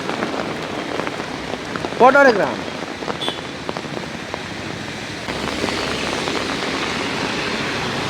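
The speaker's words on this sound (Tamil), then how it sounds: "என்ன இந்த மழைக்கையும் பாருங்க." Steady rain pours down in a Kerala village near Calicut during a storm, a dense, even hiss of drops spattering on surfaces, with a brief chirp and someone speaking softly partway through.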